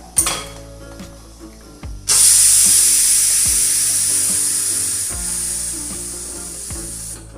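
A pressure cooker holding a vegetable curry is opened in a village kitchen, with a few metallic clicks of the lid followed by a loud, sustained hiss of escaping steam that slowly fades, punctuated by further clinks.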